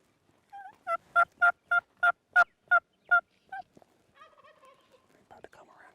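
A Gould's wild turkey in Mexico gives a loud, close burst of about eight rapid gobbling notes in quick succession, followed by softer, scattered calls and quiet outdoor ambience.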